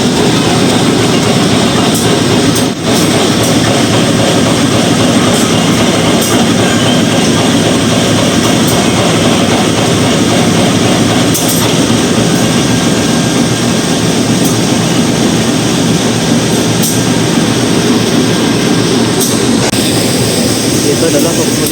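A KA passenger train hauled by locomotive C203 9503 rumbles steadily on the rails with a loud, continuous roar and some clanks, and no voices come through clearly.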